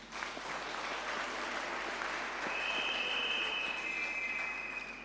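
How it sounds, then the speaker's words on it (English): Steady, dense applause from a graduation ceremony crowd at a TVET college honouring its NCV graduates, sustained for about five seconds with a faint high whine appearing partway through. "Can we clap hands for our graduates?"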